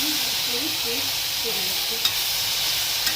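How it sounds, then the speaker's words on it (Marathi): Cluster beans (guar) stir-fried in hot oil, a steady broad sizzle with soft scraping stirs running throughout, close and fairly loud with no talking. "तर तो गवारी अशी थोडीशी पहिली तेलामध्ये परतून घेतली"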